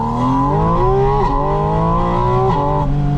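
A 2025 Porsche Spyder RS roars from inside the cabin, its intake loud and close, the engine note holding steady revs and rising and dipping slightly, with no talk.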